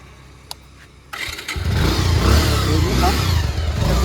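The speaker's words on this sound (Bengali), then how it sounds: "ইঞ্জিন ইঞ্জিন মোটামুটি ভালো দেখুন সাউন্ড" A motorcycle engine starts up about a second in and settles into a loud, steady running idle with slight revving, close by and with no talking.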